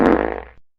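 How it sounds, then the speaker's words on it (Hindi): Goat passing gas: one short, loud, buzzy fart that sputters into rapid pulses, then cuts off abruptly, alone and close. "ये तो बकरिया पादत ब्याय"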